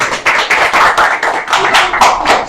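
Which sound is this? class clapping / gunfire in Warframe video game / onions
class clapping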